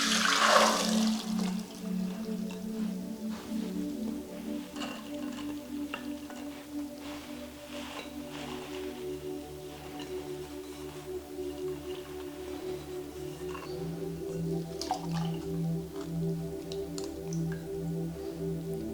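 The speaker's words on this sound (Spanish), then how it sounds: "enjuagar toda esta agua, la colamos y la enjuagamos bien con agua limpia" Water pours and drains from soaked lentils being strained and rinsed in a kitchen, a steady close trickling and splashing with a brief louder gush at the start, no talking.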